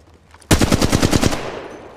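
A loud, close burst of automatic gunfire from Apex Legends Mobile, a battle royale game: about eight rapid shots in quick rhythm, then a short fading tail.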